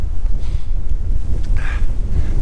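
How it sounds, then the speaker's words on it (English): Strong storm wind on the coast during Storm Ciara roars into the microphone as a loud, continuous low buffeting with steady gusts throughout. "it's very windy"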